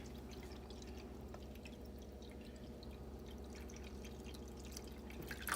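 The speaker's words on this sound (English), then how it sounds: "you should pour your water around it" Water is poured into a roasting pan around a corned beef, a faint, steady trickling and dripping over low background hum, quiet throughout with a slight rise at the very end.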